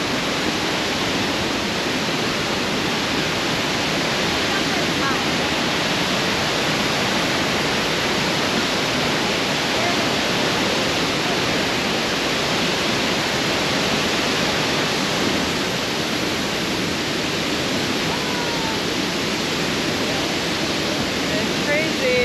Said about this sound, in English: The waterfall itself, including the accessory waterfall, they're spectacular